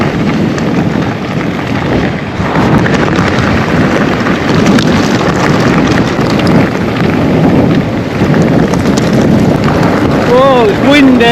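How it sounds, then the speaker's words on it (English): Strong wind buffets the microphone continuously during an e-MTB ride on Harkerside Moor in the Yorkshire Dales, a loud broadband rush that swells and dips without pause. "Oh, it's windy."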